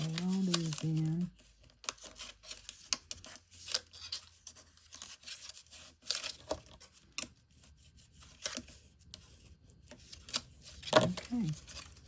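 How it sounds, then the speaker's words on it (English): Paper tabs on a handmade gift box are folded and burnished down with close, soft crinkling, scraping and rubbing strokes in irregular bursts, with a brief voice at the start and quiet stretches between. "Fold the tabs in. Burnish everything down."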